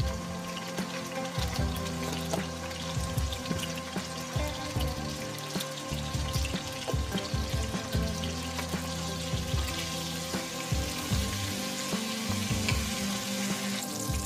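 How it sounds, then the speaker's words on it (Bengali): Potato pieces fry in hot oil with salt and turmeric for a spicy chicken dish, giving a steady, close sizzle and crackle with no voices. "আলুটাকে নুন আর হলুদ দিয়ে আমি"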